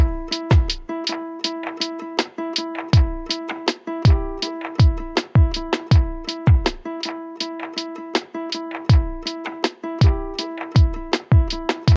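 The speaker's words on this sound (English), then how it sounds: "And now we add the guitars." Guitars join a lo-fi beat, sustained tonal chords layered over the steady thumping kick and snare pattern, clear and up front with no talking.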